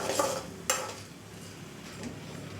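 Ingredients for curry leaf powder frying in a pan, with a couple of sharp spoon clinks against the metal followed by a faint sizzle and light stirring, close and quiet, without speech.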